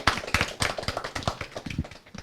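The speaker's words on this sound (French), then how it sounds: "on va se lancer des petits applaudissements" Small audience at a live talk show with a board game designer gives scattered, light applause, a handful of uneven claps close by that tapers off quickly.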